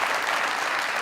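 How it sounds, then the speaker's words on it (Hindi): Dense audience applause at a talk-show taping honoring a guest, a continuous wash of many hands clapping, steady and full throughout the short burst. "इमरान भाई के लिए तालियां बजा दें सारे"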